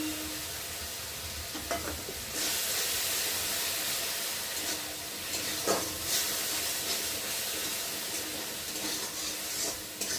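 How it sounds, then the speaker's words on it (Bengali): Mustard paste frying in a pan, a close steady sizzle with scraping stirs and spattering bursts, no speech. "সর্ষেটা একটু হালকা করে ভেজে নেব"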